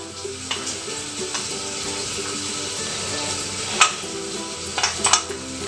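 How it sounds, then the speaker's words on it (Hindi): A wheat flour snack mixture with red chilli is stirred steadily in a pan, a continuous close scraping and wet shuffling with a few sharper clicks of the spoon toward the end. "अभी इसको मिक्स करना है हमें"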